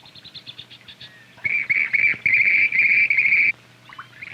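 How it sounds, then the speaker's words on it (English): A grebe in a marsh gives a loud, sustained series of advertising cries, near and prominent, following softer chirping calls, with the marsh quieting after. "There's another grebe who's begun advertising."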